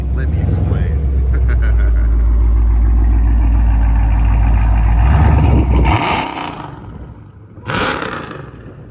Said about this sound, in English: Oh, by the way, that was BBK long tube headers.